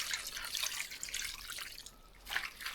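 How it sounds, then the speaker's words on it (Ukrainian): Hot broth trickles and pours steadily into a pot while making saltison (head cheese), a soft wet splashing with a brief pause before it resumes, fairly close. "ось трошки бульйончика підливаю"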